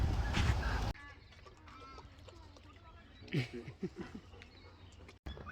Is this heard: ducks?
yes